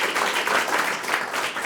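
Studio audience applauding during a French political talk show, a steady wash of many hands clapping at moderate, even loudness with no voices on top.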